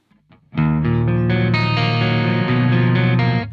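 Clean electric guitar through a Soldano SLO-100 amp with the preamp gain maxed and chorus off, a sustained strummed chord ringing out loud and steady after a faint pick noise, holding evenly to the end.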